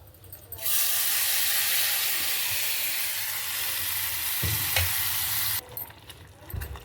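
Asafoetida, turmeric and masala hit hot oil with curry leaves, setting off a loud, steady sizzle that holds for about five seconds before dropping away, with a few stirring clinks near the end.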